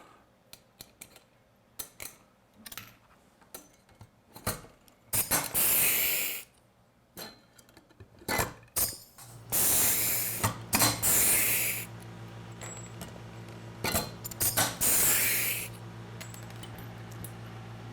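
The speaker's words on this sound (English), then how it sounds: "With rivets, I'll just put one in every single hole." Rivets being set one after another into the holes of a front frame bracket during assembly of a 2025 VRS 10, sharp clicking snaps and tool bursts spaced irregularly, close and fairly loud.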